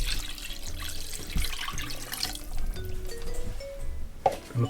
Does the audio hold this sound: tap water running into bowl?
yes